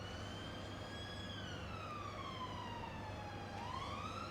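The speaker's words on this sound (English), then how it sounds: "I thought I'd let the ambulance get by this time. I heard that it was blaring away." A wailing siren rises and falls steadily, heard from a distance beneath a constant low engine hum.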